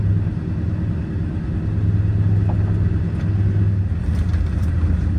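A truck that has lost third and fourth gear drives along in first and second, its engine giving a steady, close low drone that swells slightly midway, with no talking.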